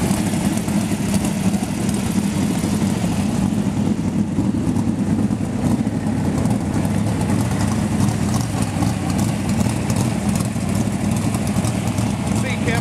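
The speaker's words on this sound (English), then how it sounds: "As you can hear, the car's still sitting here warming up." A race car engine idles while warming up at Bloomington Speedway, with a steady, rumbling low drone throughout, loud and close, with faint background noise.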